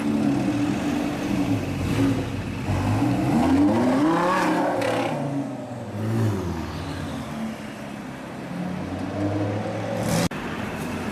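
A chrome green Lamborghini Gallardo drives past on a London street, its engine rising in a revving sweep that swells loud and close, then fades into steady traffic rumble; no talking.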